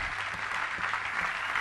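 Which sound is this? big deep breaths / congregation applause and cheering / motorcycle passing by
congregation applause and cheering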